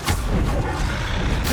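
Bombarda and Confringo spell explosions in Hogwarts Legacy, loud rumbling blasts that follow one another closely through the whole moment, heavy and booming.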